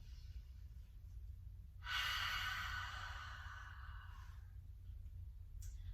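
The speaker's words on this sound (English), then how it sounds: "see if you can find another nice, beautiful, deep exhale" A single deep exhale during a Pilates hip flexor stretch, a soft, breathy whoosh of about two seconds, close and quiet over a low hum.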